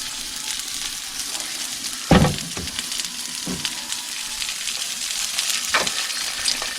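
Button mushrooms sizzle steadily in olive oil in a pan, a continuous frying hiss with a few sharper crackles and spatula scrapes, close and without voices.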